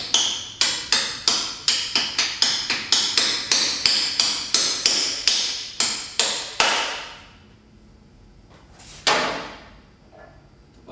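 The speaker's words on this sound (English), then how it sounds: "Here's a soft hammer." Rapid, even soft-hammer taps, about twenty in a row with a dull thud, then a pause, one more knock and a quiet stretch.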